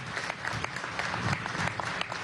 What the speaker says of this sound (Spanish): Un aplauso a esta juventud que hace música